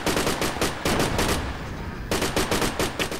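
Loud, close bursts of automatic rifle fire in the Project Reality military shooter, with rapid repeated shots in several volleys and a short lull before a final string of bursts.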